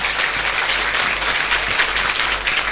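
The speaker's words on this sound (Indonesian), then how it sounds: "Tepuk tangan untuk kita semua, luar biasa." A steady wash of dense, even clapping from a congregation at a humorous Islamic sermon gathering in Kedungwuni, Pekalongan, Indonesia, sustained at moderate volume without talk.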